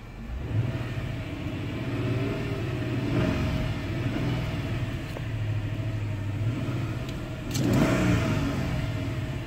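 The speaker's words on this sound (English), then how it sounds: "This engine is still running." A car engine keeps running after the key is removed, dash lights off, idling steadily with a couple of throttle blips that swell into brief revs, close and moderately loud.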